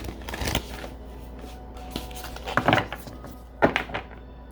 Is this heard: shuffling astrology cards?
yes